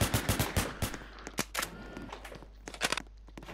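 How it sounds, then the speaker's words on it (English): Rapid bursts of gunfire crack out upstairs in a video game county jail roleplay, a quick cluster of shots at first, then scattered single pops, muffled and somewhat distant. "Sounding like gunshots upstairs."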